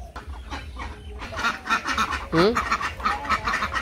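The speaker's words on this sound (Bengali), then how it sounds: "তো নিলয় আবার হাঁস নিয়ে খেলাধুলা করতেছে" Short, nasal duck quacks sound close by in a village yard where a boy plays with the ducks, a few clear calls rising over background voices and ambient noise.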